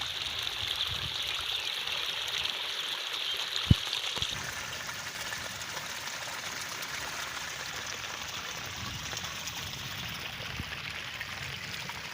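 Steady rushing rainwater flows continuously into a field, a broad even wash of sound with a single sharp knock partway through.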